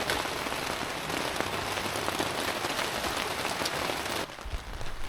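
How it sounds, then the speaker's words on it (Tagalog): Heavy rain pours down steadily at a campsite, a dense hiss of drops pattering on surfaces nearby, then it briefly softens near the end. "it actually is raining"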